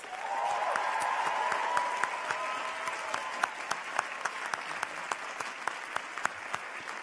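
A graduation audience applauds the staff in a sustained round of crowd clapping, with a voice briefly over it early on and a few sharp, distinct claps standing out as the applause thins.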